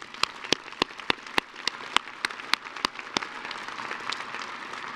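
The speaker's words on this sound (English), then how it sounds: "Let's give everyone a round of applause." Scattered handclaps from an audience at a University of Idaho winter commencement ceremony in a dome, sharp separate claps over a soft wash of lighter clapping, moderately distant and fading toward the end.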